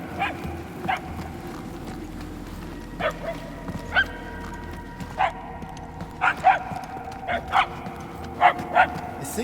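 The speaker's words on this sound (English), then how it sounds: "The barks are getting louder at least." Repeated barking from an unseen dog in Guardians of the Galaxy, short echoing yelps coming every second or so at moderate distance, a few louder toward the end, over a low steady background drone and faint voices.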